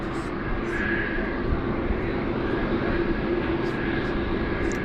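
A Cathay Pacific airliner with flaps down waits on the ground at Sydney Airport, its engines giving a steady, broad roar that holds level throughout, with a faint higher whine on top and voices talking underneath.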